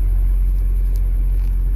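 Steady low engine rumble of an Ezyloader forklift moving a four-way pallet of beehives on soft ground, a constant close idle-like drone without clear revving.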